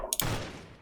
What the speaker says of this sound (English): It makes a gunshot noise.